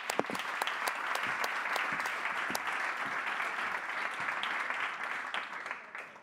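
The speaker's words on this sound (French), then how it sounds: "On l'applaudit bien fort." Sustained applause from a conference audience at a hydrogen-market event, dense steady clapping that carries on for several seconds before tapering off at the end.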